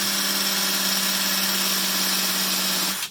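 A small power tool whines steadily while roughing up an early Bally or Stern pinball lamp socket, a close, even high-pitched buzz that stops abruptly near the end.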